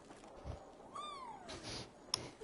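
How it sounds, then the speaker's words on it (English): Cats meowing in the Assassin's Creed Valhalla video game, one clear rising and falling meow with faint game ambience around it, fairly quiet and with no talking. "Kitties."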